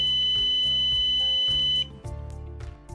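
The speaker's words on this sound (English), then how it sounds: "Setting the audio to on will make the button emit a continuous alarm tone while the state is active" A Banner K50 Pro touch button sounds a continuous electronic alarm tone, loud and close, holding one steady pitch before shifting to a lower, buzzier tone for the last second.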